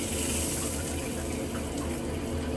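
A hotel shower runs with hot water at a Days Hotel in Minneapolis, a steady close gushing spray that stays loud and even throughout with no talking.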